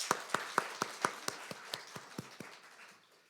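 Church congregation applauding during a Sunday worship service: about a dozen evenly spaced claps in a steady rhythm, starting crisp and gradually fading away.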